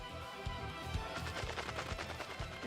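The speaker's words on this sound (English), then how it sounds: "More gunshots were heard." Rapid bursts of video game gunfire in a street shooting crackle in quick succession, dense and continuous, with sharp distinct shots mixed into the noisy barrage.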